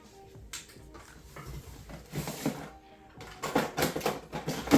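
Packing tape being slit open on a K-pop mail parcel, heard as close scratchy tearing and crackling bursts that grow louder toward the end, with no talking.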